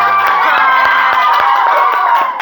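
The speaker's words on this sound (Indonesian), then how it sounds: "Tepuk tangan dulu buat Farel." Children in a classroom clap together for a classmate, a loud burst of dense rhythmic applause with cheering voices mixed through it, close and continuous throughout.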